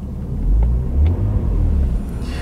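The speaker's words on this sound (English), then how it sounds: "It sounds sweet though, doesn't it? I mean, it's idling nicely, it's not lumpy." A BMW 330Ci engine idles smoothly and steadily, a deep, close rumble with no lumpiness or misfire, heard alone without talk.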